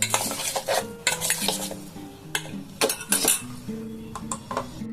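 Soya chunks frying in a pan, close stirring and scraping with clinks of a utensil against the pan over a low sizzle, the strokes coming in uneven bursts.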